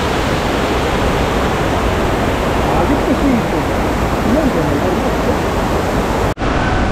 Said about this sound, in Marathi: फायनली आपण शेवटच्या धबधब्याला आलो आहे